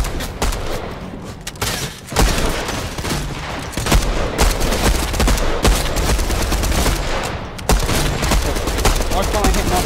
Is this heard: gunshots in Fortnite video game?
yes